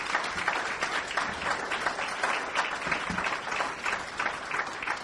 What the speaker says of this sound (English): So a big round of applause for Liz Moore.